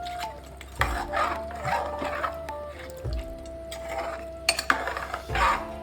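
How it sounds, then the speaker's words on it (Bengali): A spoon stirs boiled mutton in a pressure cooker pot while it is sautéed, giving a few clattering scrapes against the metal at uneven intervals, with a steady hum underneath. "মাটনটা এর মধ্যে দিয়ে দিলাম। আস্তে আস্তে এটা কষাবো।"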